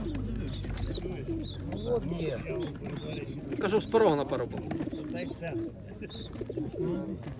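Pigeons coo at an outdoor bird market during a pigeon show, soft throaty calls mixed into a steady crowd murmur while people talk nearby over the birds.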